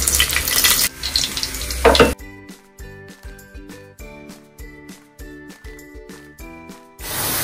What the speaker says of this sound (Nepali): यो फ्राई भइसक्यो, एकदम मजाले फ्राई भयो।